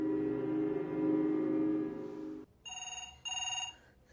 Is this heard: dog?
no